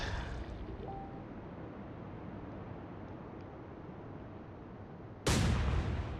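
A salvo from 15-inch naval guns in the Atlantic Fleet game is a sudden loud, sharp blast near the end, after several seconds of a steady low rumble of sea and wind. There is no talking.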